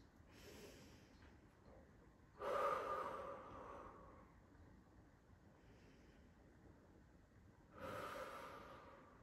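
Deep breathing during a prenatal Pilates session: three slow, audible breaths come close to the microphone, each a soft rushing inhale or exhale, with quiet stretches between them.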